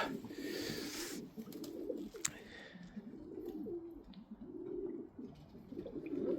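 An old white female pigeon coos in soft, low, repeated phrases nearby, with faint rustling and a brief higher sound early on and no talk.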